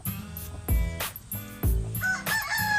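Rhode Island Red and native chickens in a hatching setup, with two loud, close rooster crows and some clucking, plus a few higher bird chirps near the end.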